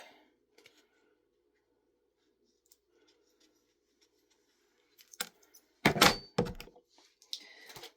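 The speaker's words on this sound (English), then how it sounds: "I'm actually going to cut it just a little bit more on the one side." Scissors cut an ostomy wafer, starting with a few faint ticks and then a cluster of close snips and rustling handling sounds near the end.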